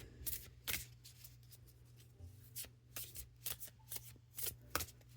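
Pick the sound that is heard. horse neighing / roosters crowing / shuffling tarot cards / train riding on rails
shuffling tarot cards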